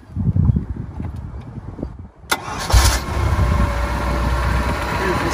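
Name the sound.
Monterey 180 bowrider boat engine starting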